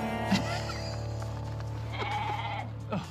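Goats, a mix of normal and transgenic animals, bleat a few times over a steady low mechanical hum, the calls moderately close and wavering.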